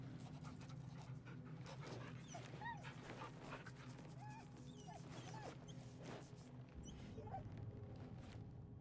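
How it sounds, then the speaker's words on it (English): A dog in a video game whimpers and pants softly, with several short rising yips and whines over a steady low game background hum. "Wait, that doggy."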